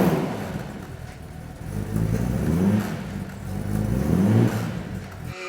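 An Aston Martin engine revs twice in smooth rising sweeps, rough and throaty, close and fairly loud over a steady low idle.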